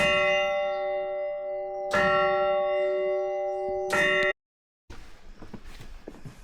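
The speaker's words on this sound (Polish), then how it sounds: "tu jest dzwon." Church bell struck three times, each loud clang ringing out with a long sustained hum, the strokes about two seconds apart, followed by a sudden silence and then faint outdoor noise.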